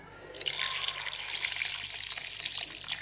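Water poured into a pot of halved sweet potatoes on a home stove, a steady close splashing pour lasting a few seconds with no talk.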